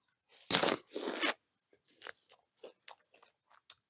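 A person takes two loud, juicy, crunchy bites of watermelon up close, followed by quieter wet chewing clicks and smacks in an otherwise silent space.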